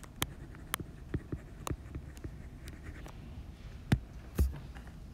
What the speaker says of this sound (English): Let me write molecules more clearly.